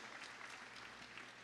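Faint, dense applause from the congregation at a church Bible-study graduation ceremony, a brief, even patter of many hands heard from a distance.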